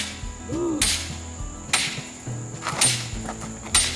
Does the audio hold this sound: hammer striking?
yes